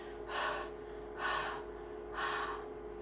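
Three forceful exhaled breaths, evenly spaced and close, demonstrate the breathy letter h sound, each a soft airy rush against a quiet hum.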